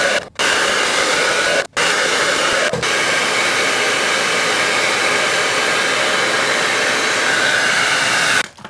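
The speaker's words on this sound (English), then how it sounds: "Piece by piece, just blow dry it backwards" A hair dryer blows hair dry at home, roaring loud and close in a continuous, breathy rush. The airflow cuts out briefly a few times and then starts up again.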